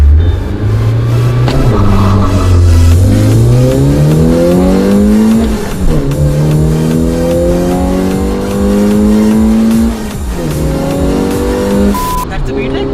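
A Honda City with a VTEC engine revs hard through repeated rising sweeps, loud and close from inside the cabin, with people talking over the engine.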